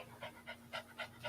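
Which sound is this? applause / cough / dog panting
dog panting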